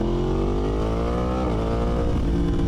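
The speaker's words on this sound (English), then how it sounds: "Aprilia V4 is the best sounding bike on the market" An Aprilia V4 motorcycle engine revving up close, a loud snarling tone climbing in pitch before a brief dip and another rev.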